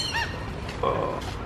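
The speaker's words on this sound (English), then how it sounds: "This is the war for the food" Harsh honking calls of ducks and seagulls fighting over food break out twice over a noisy outdoor background, brief and squabbling, close by.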